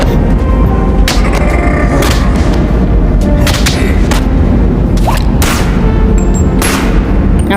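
Repeated loud gunshots and booming blasts fire in the VR shooter BONELAB, coming as sharp bursts at irregular intervals over constant noisy background rumble.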